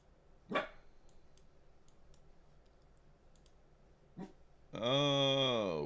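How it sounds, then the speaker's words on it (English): A couple of short dog barks against a quiet room with faint clicks, followed by a sustained tonal, whining sound at the end. "What are you barking at there, Maxie"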